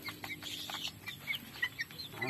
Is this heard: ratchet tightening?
no